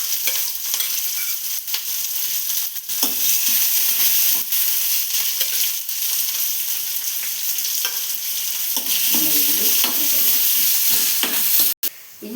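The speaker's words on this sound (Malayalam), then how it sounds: "ഇനി നമ്മളിതിലേക്ക് ചുവന്നുള്ളി ഇട്ട് കൊടുക്കുന്നു." Shallots fry in hot oil with a dense, continuous sizzle, stirred now and then with soft scraping in the pan.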